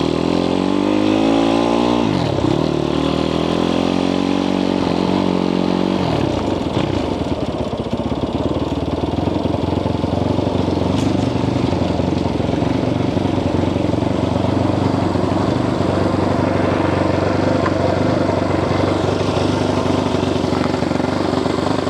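A cheap Chinese dirt bike engine runs close by at a high idle, its pitch rising and dipping with a few revs in the first seconds before settling into a steady, loud drone.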